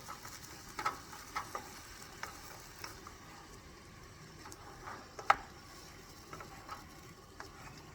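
A stew with carrots is stirred in a pot, making soft intermittent scraping and clinking strokes over a faint background simmer, quiet and close, with no talk.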